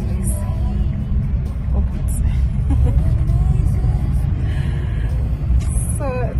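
A car drives along a road on the way home from the office. Low engine and tire rumble runs steadily throughout, with a few faint chirps and brief voices mixed in.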